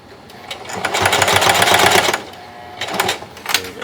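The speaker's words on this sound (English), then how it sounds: "So we're just sewing it right now, so that the pieces stick together" A sewing machine stitches scrap fabric pieces of a cadet hat together, a close rapid whirring in two bursts with a short pause between, loud and steady while running.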